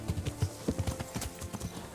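Horse hooves clip-clop in a quick, uneven rhythm in a video game, with faint voices under the steady clatter.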